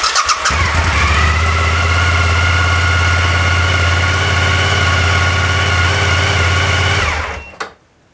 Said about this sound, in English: recording on this one and start the motorcycle.